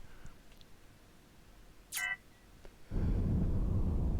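A short electronic beep from the space-building game Avorion, a single bright tone burst lasting about a quarter second, followed by a sudden rise of low rumbling noise.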